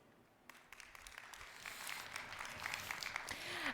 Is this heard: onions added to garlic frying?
no